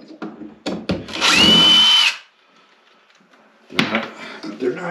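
A power drill backs out square-drive screws while a 91-year-old cast iron kitchen sink is removed. One close, loud whirring burst lasts under a second, with knocks and handling clatter before and after.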